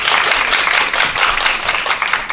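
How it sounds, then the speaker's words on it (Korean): Brief burst of applause from a symposium audience at a Korean early-intervention association's founding event, dense clapping sustained for a couple of seconds with no talking. "박수 부탁드립니다"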